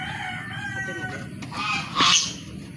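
A chicken clucks and calls at close range over steady outdoor background noise, with a louder, sharper squawk near the end.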